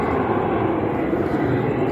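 A plane flying low overhead, heard as a loud continuous rumbling engine roar that stays steady throughout the short stretch.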